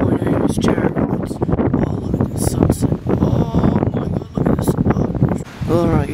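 Strong wind buffets the microphone in a constant rumbling roar, with a person talking over it.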